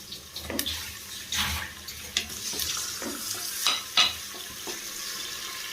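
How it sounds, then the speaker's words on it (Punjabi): A tempering for salted rice with potatoes and tomatoes is stirred in a pan, giving a faint sizzle under repeated scraping strokes and occasional louder knocks, close by and without speech. "ਇਹ ਤੜਕਾ ਪਾਉਂਦੇ ਪਏ ਆ"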